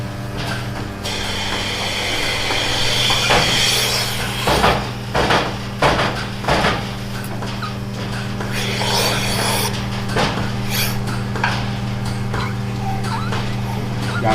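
Milking machine pulsating on a dairy cow, a steady mechanical hum with faint rhythmic ticks and a few sharp knocks from handling the equipment, close and continuous throughout.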